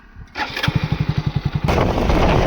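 A motorcycle cranks with a rapid chugging starter rhythm, catches, then revs up into a loud steady engine drone as it pulls away, close to the microphone.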